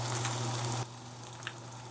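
The fat edges of a porterhouse steak sear in a hot pan, giving a soft, faint sizzling hiss that lasts under a second before settling into a quieter hiss.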